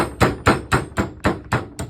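Steady hammering to drive a pin out of a 1903 Springfield drill rifle: seven sharp, evenly spaced metallic blows, close and loud, with no talking.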